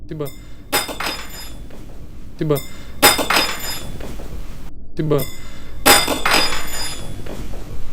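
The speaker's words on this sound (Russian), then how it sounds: "Сначала раздался негромкий удар, как будто ложка подпрыгнула на той же поверхности, на которой лежала изначально, а уже затем был сильный удар о пол." Metal spoon clinking and bouncing on a hard surface, then striking the floor; sharp clatters recur several times, close and fairly loud, with voices talking under and between the impacts.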